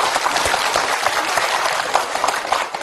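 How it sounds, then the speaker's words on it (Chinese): An audience at a staged variety show breaks into dense, steady applause for a large group poetry recitation. The clapping is loud and continuous throughout, with no speech. "掌声有请"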